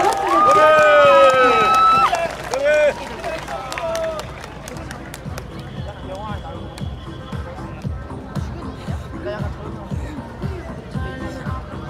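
Audience at a street dance parade festival in Cheonan applauding a dance team, a dense wash of clapping and crowd hubbub following announcer speech and music at the start.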